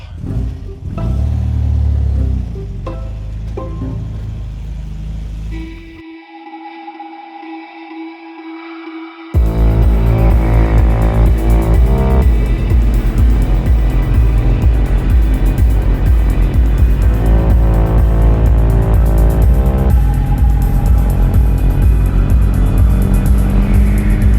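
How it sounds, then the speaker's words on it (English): A 1962 MG sports car drives the TT course on the Isle of Man, its engine loud and close with revving and downshifts; a quiet break midway gives way to a sustained, steady engine roar. "This is a 1962 MG, and we're on the TT course on Isle of Man."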